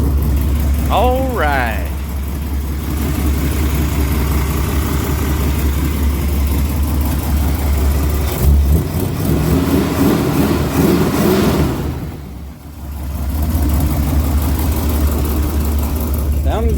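A 1974 Ford Gran Torino Elite engine starts up and settles into a steady, rumbling idle close by, with a short spoken remark at the start and a brief dip in the engine note midway.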